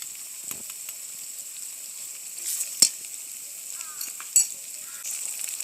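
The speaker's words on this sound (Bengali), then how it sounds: "পেঁয়াজ আর রসুন বাটা একটু ভাজা ভাজা হয়ে গেলে এখন আমি দিয়ে দেবো জিরে বাটা দিয়ে দেবো শুকনো মরিচ বাটা" Onion and garlic paste fries in a pan as cumin paste and dried chili paste go in, giving a steady soft sizzle broken by a few sharp clinks and spatters.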